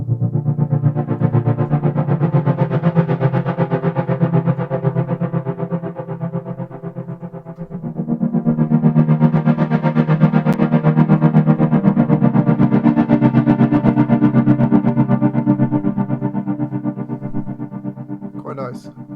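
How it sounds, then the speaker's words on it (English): A Triggergate gate plugin paired with the Oril River reverb processes a sound into a dense, chopped, distorted texture. The texture swells and fades in two long waves and stays loud and continuous for about nineteen seconds. "It also sort of works quite well in combination with a reverb. So for example, if we just put Oril River back on again."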